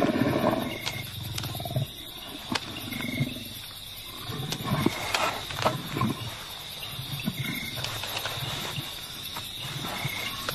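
Lions moving around a tree holding a leopard's abandoned carcass, with a low roaring lion call amid steady insect and frog chorus of the wild night, faint scuffles and thuds mixed in.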